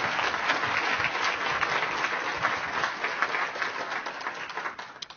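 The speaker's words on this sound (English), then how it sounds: "Please give Davis another big, big round of applause." A crowd at a city mayor's event applauds, a thick sustained wash of many hands clapping at a steady level before tapering off at the end, with a few cheers mixed in.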